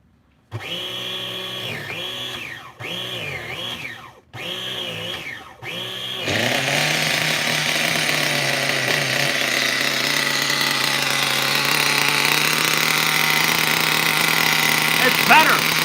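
OFNA Jammin nitro RC truck engine with richened high and low speed needles and a lowered idle gap gives a few short revving blips, then settles into a loud, steady, high-pitched buzzing run close by.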